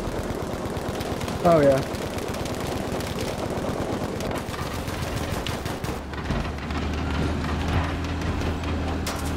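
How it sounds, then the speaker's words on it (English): Gunfire in the World War II shooter Battlefield V during a tank fight, rapid bursts and sustained automatic fire crackling loudly and continuously, mixed with engine rumble and a player's brief spoken remarks. "Oh boy, I'm shooting at you."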